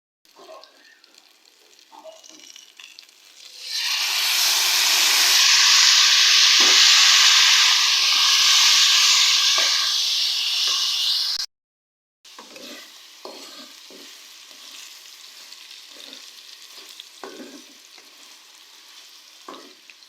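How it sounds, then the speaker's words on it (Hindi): Chicken karahi sizzles loudly in a hot pan with soy sauce, a steady frying hiss swelling as the pan is stirred, then dropping to quieter scraping and occasional stirring clatter. "और अब हम इसे 4 से 5 मिनट के लिए भून लेंगे।"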